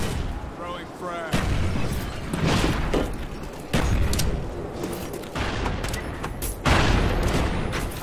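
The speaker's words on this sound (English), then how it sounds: "Throwing frag." Frag grenade explosions and heavy gunfire in a Domination match on the Summit map in Black Ops 1, loud booming bursts over constant combat noise, with voices heard over the action.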